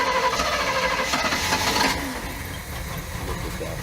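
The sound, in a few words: outboard boat engine starting and idling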